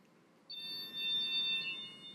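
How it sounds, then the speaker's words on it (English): Alarm from an infrared beam motion detector, a thin steady electronic tone that switches on suddenly and holds as a continuous high beep over low background hum. "then the alarm sounds."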